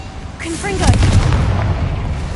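A Confringo blasting spell explosion in Hogwarts Legacy, a loud booming burst that swells and rumbles for about two seconds, with a brief voice and tonal effects at its onset.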